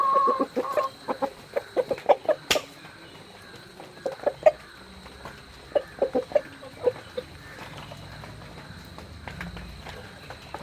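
Native hens cluck in short bursts nearby in a coop, one coming to lay in the nest, an irregular series of clucks and calls with quieter gaps, plus a sharp tap and faint scuffling.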